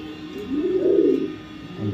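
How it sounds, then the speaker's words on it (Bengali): A racing pigeon from a club loft gives a single low, soft coo up close, with a faint second coo beginning as it ends. "এটা BRPL ক্লাবের রেস করা কবুতর।"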